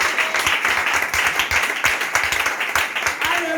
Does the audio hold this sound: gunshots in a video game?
no